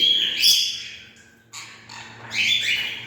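A cockatiel chirping in a home aviary, with bright, close chirps and short calls coming in three quick bursts and brief quiet gaps between them.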